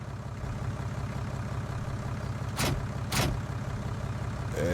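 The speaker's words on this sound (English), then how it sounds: "Backing up so I can get out of the tractor a little bit better." A tractor engine idles with a steady low, throbbing chug while reversing in Farming Simulator 19, interrupted by two short hissing bursts a moment apart and a third hiss at the end, with no talking.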